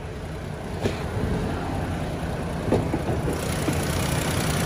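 A 2009 Chevrolet Spark with a newly replaced fuel pump and fuel filter idles steadily at close range, a low even engine hum with a couple of faint clicks and no talking.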